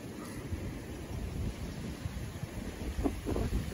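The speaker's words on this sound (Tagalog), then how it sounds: "Lakas ng hangin." Strong wind buffets the microphone while tilapia fishing outdoors, a steady low roaring rumble throughout with faint water sounds and no talking.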